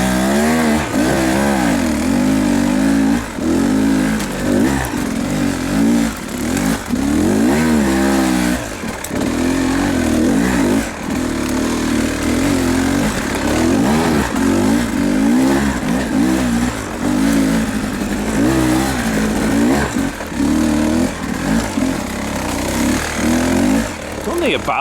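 A motorcycle climbs a private mountain trail in the Allegheny Mountains of New York State, its engine revving and surging loudly and up close throughout while a rider talks over it.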